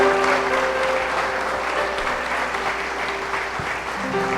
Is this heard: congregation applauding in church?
yes